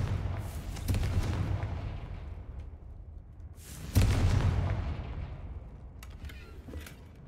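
Two heavy explosive blasts of the Confringo fire spell in the Hogwarts Legacy video game, each a sharp boom followed by a long rumbling decay, with a few faint crackles near the end.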